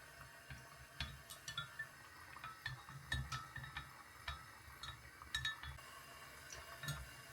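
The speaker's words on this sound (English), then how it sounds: "We'll add the coconut oil. Give that a good stir." Coconut oil is stirred in a glass container, giving faint, irregular clinks and ticks of a utensil against the glass over a quiet background hum, with no voices.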